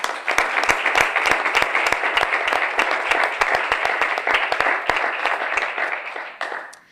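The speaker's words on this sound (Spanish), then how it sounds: "os pido ya un aplauso de bienvenida para Alicia Sin" Welcome applause from a conference audience, a steady stream of sharp individual claps forming continuous clapping that holds evenly, then thins and fades out near the end.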